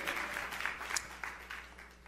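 A church congregation applauds and cheers for God during a pastor's sermon, a fairly faint, steady wash of clapping with a few brighter bursts, no speech over it.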